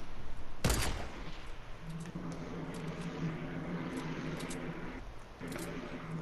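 Gunfire in a Fortnite Battle Royale match: one loud close shot, then a steady run of rapid firing with a couple of sharper bursts, a low engine-like hum beneath, no talking.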